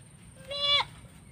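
A single goat bleats on a ranch, a clear wavering call lasting about a third of a second, close and fairly loud over quiet outdoor background.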